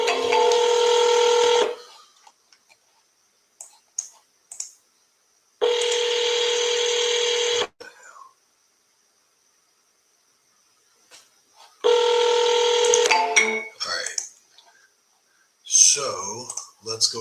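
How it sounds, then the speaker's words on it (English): Telephone dialing tones on a seller call, three long bursts of tone about two seconds each separated by silence, followed by short clicks and brief beeps. "Yes, I'm double dialing."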